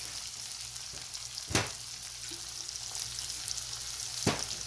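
Garlic frying in hot oil for a dal palak tadka gives a steady close sizzle and crackle, with two brief louder spits standing out and no voices.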